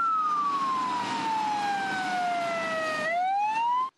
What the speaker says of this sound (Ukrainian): трирічна Кіра їде на пожежній машині.